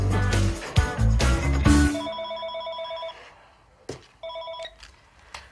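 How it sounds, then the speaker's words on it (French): A telephone rings in a home with repeated electronic trills in short bursts, preceded by loud music and thumps, the rings fairly near and clear with brief gaps between them. "Téléphone!"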